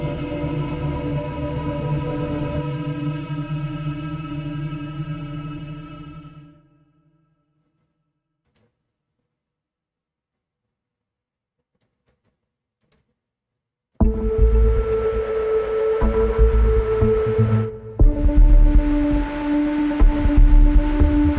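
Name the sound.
pulsy synthesizer arpeggiator sequence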